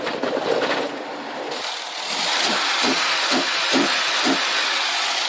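A car engine with a 5-speed manual gearbox runs steadily and loudly close by, rising after about two seconds into a harsher, busier revving note with a few rhythmic pulses, and no talk over it.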